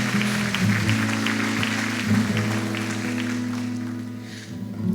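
A church congregation claps during a Portuguese-language sermon, a rough wash of hand claps layered over sustained tonal music that holds underneath throughout.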